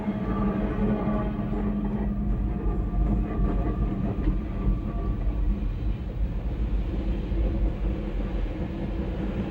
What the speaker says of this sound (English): our train approaches the 850-foot Kelly Creek Trestle